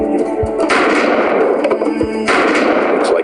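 Video game gunfire from Modern Combat Sandstorm as targets are shot, with loud, sharp reports: a few separated single shots and two heavier bursts that ring on over a dense, continuous battle-like din.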